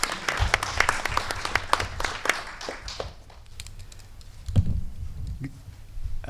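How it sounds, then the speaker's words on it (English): An audience at a COVID-19 response roundtable gives a round of applause, a steady patter of many hands clapping that fades after a few seconds, followed by a low murmur. "So please give her a round of applause"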